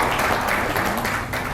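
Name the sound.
audience applause at keynote event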